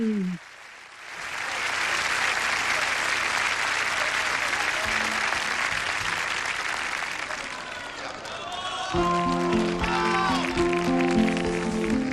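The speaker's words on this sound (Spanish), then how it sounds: "¡Qué ovación!" A concert audience breaks into a sustained ovation, dense applause and cheering filling the space for most of the stretch, with a voice talking over the tail end.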